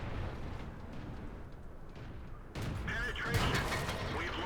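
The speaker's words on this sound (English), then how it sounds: "So it's hit my ammo rack" An enemy shell strikes a tank's ammo rack in World of Tanks, a sudden sharp impact cutting through a low engine rumble, followed by metallic clanking and mechanical rattling that stays loud to the end.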